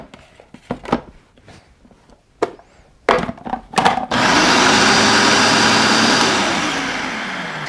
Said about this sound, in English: I'm just going to blend it one more time just for good measure.